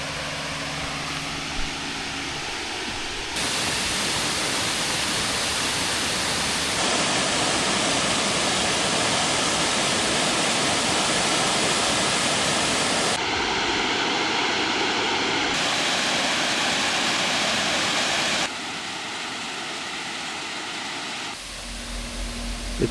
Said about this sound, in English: hoping to get to the base of this stunning waterfall